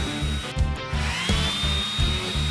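A power sanding machine spins its sanding pads while a rubber cleaning stick is pressed against them, a loud, close, rhythmic grinding hum pulsing in steady repeated strokes, with a rising whine partway through.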